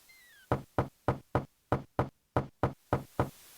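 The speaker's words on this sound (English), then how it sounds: "Knock knock." Ten evenly spaced, sharp knocks on a door in the video game King's Quest 6, crisp and close, following a brief rising chime.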